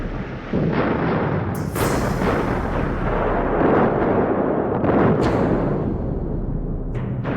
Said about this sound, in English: Mao's plans are put into action as Chinese artillery units inflict devastating hits on Indian troops.